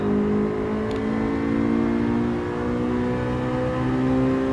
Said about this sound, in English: and then full throttle just as you're exiting this penultimate corner over here